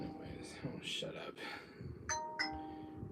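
Two bright chime tones ring out in quick succession from a phone, clear against a noisy background of muffled talk and room sound, near and fairly loud.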